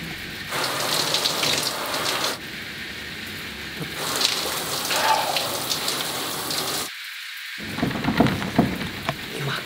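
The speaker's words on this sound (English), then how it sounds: "Is that the shower?" A shower runs behind a locked bathroom door, giving a steady muffled hiss of falling water that continues with brief breaks and one short silent gap.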